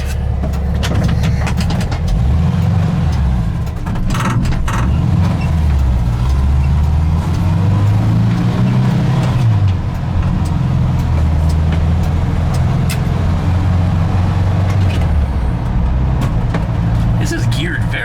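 A 1968 VW single-cab bus driving in third gear at low speed, its engine droning steadily and rising and falling in pitch with road noise throughout, while someone talks over it.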